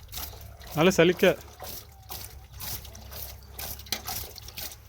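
Water is splashed onto garden soil in a mint bed, a brief close burst of pouring and splattering followed by softer trickling, while people talk over it.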